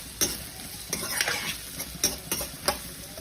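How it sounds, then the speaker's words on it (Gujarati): Onions sautéing in oil in a pan for masala bread, a steady soft sizzle broken by several sharp scraping stirs of a spatula, close and moderately loud with no talking. "ડુંગળીને સાંતળી લઈશું। એને 2 મિનિટ માટે આપણે સાંતળીશું સરસ રીતે।"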